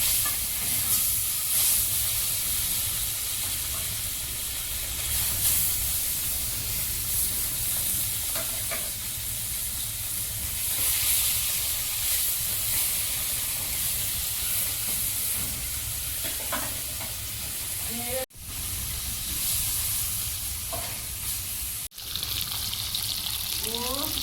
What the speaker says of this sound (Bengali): তেল গরম হয়েছে, মাছগুলো দিয়ে দেবো।